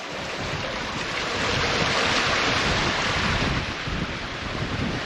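Strong wind of 17-18 knots apparent buffets and roars continuously aboard a sailboat, mixed with the rushing wash of water against the moving hull, loud and unbroken throughout.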